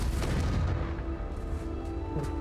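In Hogwarts Legacy, a Confringo blasting spell explodes with a loud, close, booming burst, and the low rumble fades gradually over a couple of seconds.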